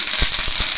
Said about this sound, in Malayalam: അതേ കടുക് പൊട്ടി